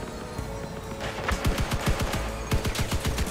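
Spectre-2 machine guns firing in Crossout, rapid bursts of sharp, punchy shots in quick rhythmic volleys, loud and close over a dense battle backdrop.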